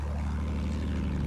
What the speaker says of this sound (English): Plane below us,